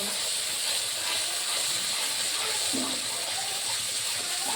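Whisked sour yogurt hits a hot pan with cauliflower roast being cooked down in oil, giving a steady, even hissing sizzle that holds at a fairly low level throughout, without speech.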